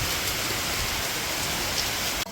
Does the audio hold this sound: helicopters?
no